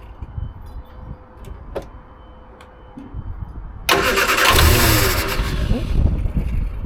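Triumph Herald with Stromberg carburettor cranking on choke: a low, uneven starter churn for a few seconds, then the engine catches with a sudden loud burst and keeps running roughly, close by.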